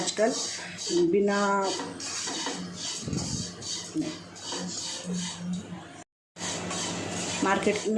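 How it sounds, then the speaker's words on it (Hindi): Sevai vermicelli roasting in half a spoon of ghee, stirred in a pan with scraping and metallic clinks of the spoon, while someone talks over the cooking. "मैं उसे आधा चम्मच घी डाल के उसे थोड़ा सा हल्का सा उसका कच्चापन दूर करने के लिए मैं उसे भून रही हूँ"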